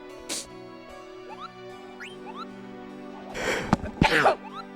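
A single sharp sneeze rings out near the end, close and loud, over a steady hum of video game music during a live speedrun event broadcast.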